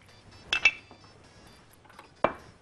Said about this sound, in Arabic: هروح جايبة كده بولة من عندنا او زورة او ايا كان، اروح حاطه حبة زيت صغيرين